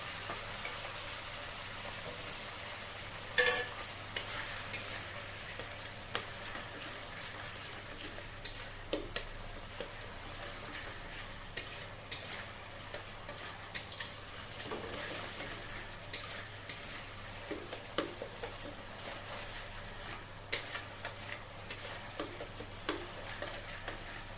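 Dal cooking water goes into frying masala in a pan and is stirred, giving a steady soft sizzle with faint scraping ticks throughout, quiet and continuous with no voices.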